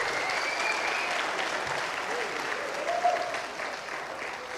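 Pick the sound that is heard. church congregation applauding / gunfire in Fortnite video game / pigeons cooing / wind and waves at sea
church congregation applauding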